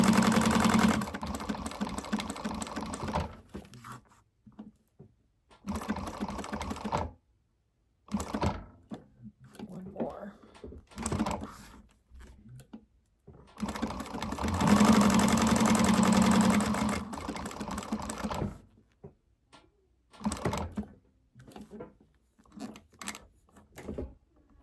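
A sewing machine stitches a line of fabric in several bursts of steady mechanical whirring, separated by pauses while threads are handled, close up with no talking.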